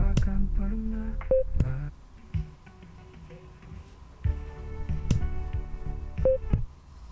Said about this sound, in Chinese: 长按音量键进行切割是可以听到提示音的